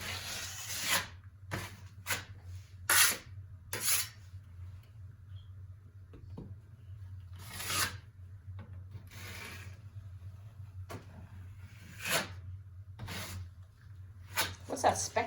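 A drywall knife scrapes joint compound over a sheetrock wall patch in short, separated bursts of scraping strokes, with a low hum underneath and people talking between strokes.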